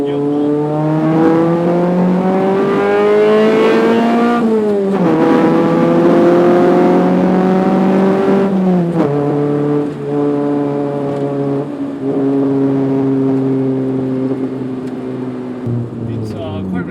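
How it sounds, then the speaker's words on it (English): Proton Satria with a 4G92 MIVEC engine pulling hard in second gear, its loud steady engine note climbing in pitch through repeated rising sweeps, with brief dips at each shift-like break and no talk over it. "Let's give it a second gear pull."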